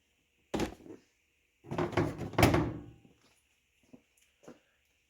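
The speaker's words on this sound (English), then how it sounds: "we should just be able to lift straight up on this door panel. Come right off, just like so." A plastic door panel is lifted off a Ford F-250/F-350 Super Duty truck door, giving a sharp clack followed by a longer rattling, scraping pull and a few faint clicks afterward.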